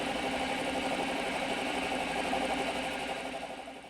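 A metal lathe facing off the end of steel round stock, a steady continuous machining whir and hum with a faint mechanical rattle, holding level throughout and easing off slightly at the end, with no talk.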